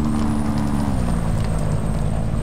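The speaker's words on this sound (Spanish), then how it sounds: "empezamos a escuchar cómo ruge de bonito ese carro" A Chevrolet Kodiak truck in American Truck Simulator, its engine droning loud and steady in top gear, a deep low rumble with a slight drop in pitch partway through, no talk.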